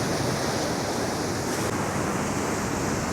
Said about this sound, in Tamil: இங்கெல்லாம் வந்து ஒரே கடல் சீற்றமாக தான் இருக்குது